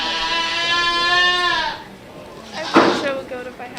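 At a county junior fair goat show, a long, wavering bleat rings out close and loud, then a shorter bleat follows amid background chatter from people nearby.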